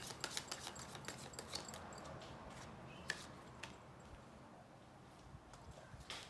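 Tarot cards being shuffled during a reading, giving soft, crisp riffling clicks and light taps scattered through the clip, fairly faint and close, with no talking.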